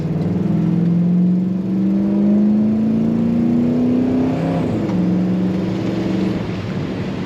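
A fuel-injected 1965 Chevrolet Impala engine revs up steadily, its exhaust note rising in pitch, then drops briefly with a gear change before droning on, loud and close.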